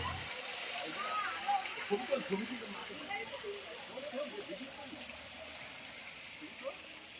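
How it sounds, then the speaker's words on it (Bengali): Water falling from above at a Shiva temple, a steady broad splashing wash with scattered louder drips and spatters, fairly close, with no clear voices over it. "এটা শিবের মন্দির, ওপর থেকে জল পড়ছে, দেখো।"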